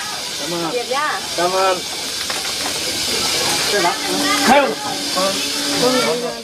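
A passenger train in Vietnam gives off a steady loud steam-like hiss that runs throughout, while someone narrates over it.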